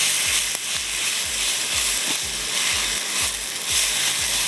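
Chicken and vegetables stir-fry in a hot pan with a loud, steady sizzle. Regular rhythmic scrapes and clanks of a spatula repeat throughout, close up.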